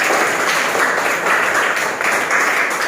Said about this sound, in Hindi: तालियां बजाओ उसके लिए।